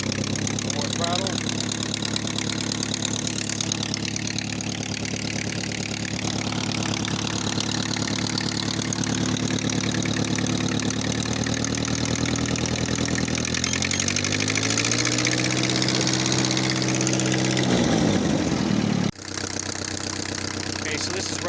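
A small engine runs loudly and steadily after its carburetor has been cleaned, idling with a few throttle changes and revs near the end before it cuts off abruptly. Speech sits over the engine.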